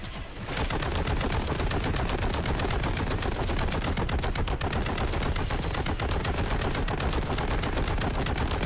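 Heavy boltgun firing nonstop in the video game Warhammer 40K: Boltgun, a dense, loud stream of rapid shots lasting the whole stretch, with no voice over it.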